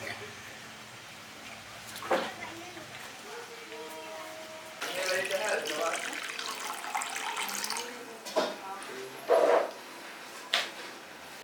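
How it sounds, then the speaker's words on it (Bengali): Chopped goat liver is rinsed under a running kitchen tap, with water splashing and gushing in bursts under a person talking, plus a few clatters near the end. "মেটাটা কাটা হয়ে গেছে ছোট ছোট করে কেটে নিয়েছি আমি এরপরে একটু ভালো করে ধুয়ে নিই"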